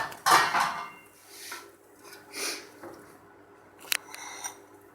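Cooked achari bhindi (okra) being served onto a plate: a few distinct scrapes and clinks of a utensil against the dish, with a soft scrape early, quieter shuffles, and a sharp clink near the end, close and otherwise quiet.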